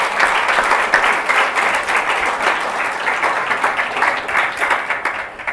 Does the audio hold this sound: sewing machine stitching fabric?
no